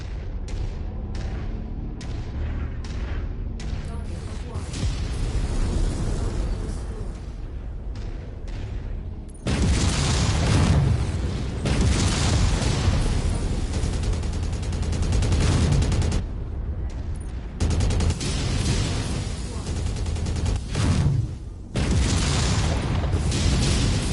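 Relentless heavy cannon fire and booming explosions from a mech battle in the video game MechWarrior 5, dense and loud throughout with overlapping blasts and rapid gunfire bursts, briefly dipping before surging again.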